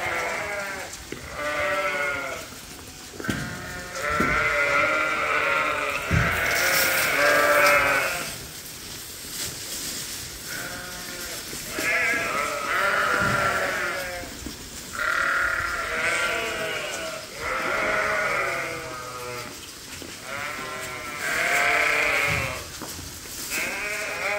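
Suffolk sheep in breeding groups bleat loudly and continuously at feeding time, many overlapping calls close by forming a steady, insistent chorus with no pause.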